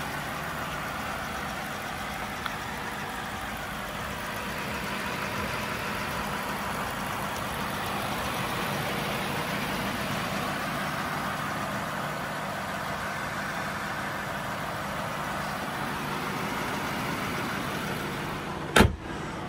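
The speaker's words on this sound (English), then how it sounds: "Smooth running engine." A 2006 Cadillac DTS with about 62,000 miles runs at a steady idle, a smooth, even low hum heard close and alone for the whole span, ending with a brief click.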